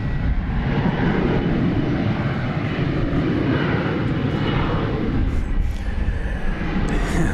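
An airliner taking off from a runway at DFW International Airport, a loud, continuous broadband engine roar holding steady throughout.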